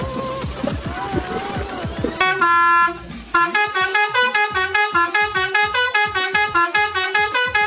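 A bus horn in Indonesia blares a loud melodic tune, first a long wavering blast, then a rapid rhythmic run of repeated honking notes, close and continuous.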